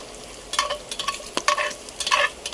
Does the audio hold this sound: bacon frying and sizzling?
yes